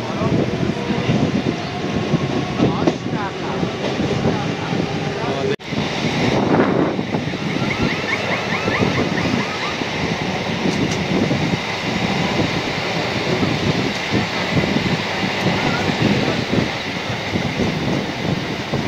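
A Sealdah–Chakdaha morning local train pulls into Halisahar station with a steady, loud rolling rumble and rattle and one sharp knock partway through, while faint voices sound in the carriage.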